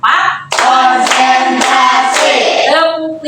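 A tenth-grade class claps a rhythmic counting pattern, with bursts of sharp, loud group claps in quick succession filling the room, close and unaccompanied by talk.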